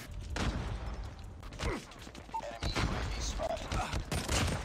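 Bursts of gunfire in the mobile shooter Call of Duty Mobile, a few loud spaced volleys of sharp shots with rattling mechanical clatter between them, and someone talking over the action.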